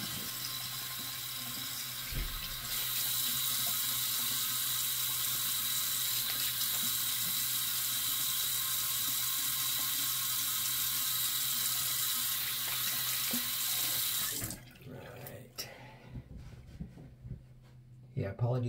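Water runs steadily from a sink tap while someone rinses off, a loud continuous hiss that stops abruptly near the end, followed by faint clatter and handling sounds.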